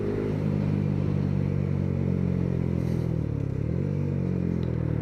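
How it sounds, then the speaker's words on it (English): A Yamaha MT125 motorcycle with a slipper clutch rides along steadily, its engine a loud, continuous drone close by, with a smooth dip and rise in pitch partway through as it shifts gear. "Gear change on this is lovely and smooth."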